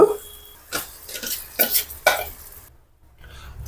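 Marinated chicken is tipped into a pan of softened tomatoes for chilli chicken pulao, giving a few short wet sizzling and stirring bursts with utensil scrapes before it goes nearly quiet.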